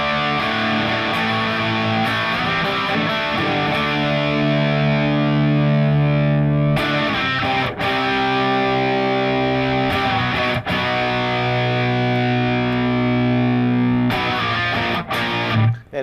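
Heavily distorted electric guitar through a Line 6 Pod Go modelling a Sunn Model T amp, thick sustained power chords ringing out with brief pauses and fresh attacks, loud and alone.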